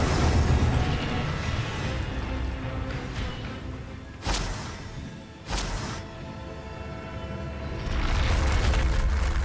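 In Hogwarts Legacy, an Incendio fire spell goes off amid continuous game rumble, with two sharp bursts of blazing flame a second apart and a louder roaring swell near the end.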